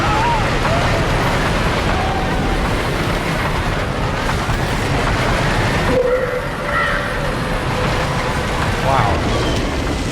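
Roller coaster ride on a coaster in the video game Planet Coaster, a steady rumbling rush of track noise and wind that stays loud and continuous, with faint tonal game sounds rising over it now and then.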